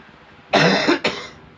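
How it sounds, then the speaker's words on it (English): Two quick coughs, the first longer and harsher and the second short and sharp, close to the microphone in a quiet room with no one talking. "I didn't mean to cough."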